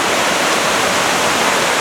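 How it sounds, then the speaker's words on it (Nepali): The Mardi river rushes by close up, a loud, steady, broadband roar of fast-flowing water that does not let up, with no voices. "ल हेर्नुहोस् यो बगिरहेको छ, यो मर्दी खोला हो।"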